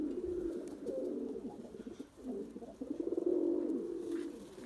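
Pigeons in a flight loft cooing softly and repeatedly, rolling low coos rising and falling close by, with no talking.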